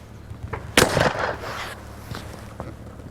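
A shotgun firing steel shot at a clay pigeon outdoors, one sharp loud blast with a short decaying tail, followed by faint softer pops.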